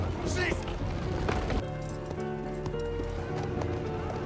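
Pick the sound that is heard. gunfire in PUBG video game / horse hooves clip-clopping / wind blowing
horse hooves clip-clopping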